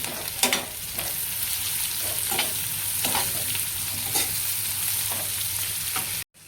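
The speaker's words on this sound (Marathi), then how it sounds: "मटकीची भाजी बनवणार आहे मीठ घालते आता लवकर भाजतं" Sprouted moth bean curry fries and is stirred in a pan with salt, garlic, chili, onion and curry leaves, giving a steady close sizzle broken by repeated scraping strokes of a spoon, with no talk.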